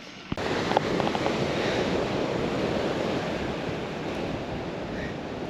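Ocean surf at a beach in Eden on the NSW south coast, a steady broad wash of breaking waves with some wind buffeting the microphone, after a brief knock at the start; no voices.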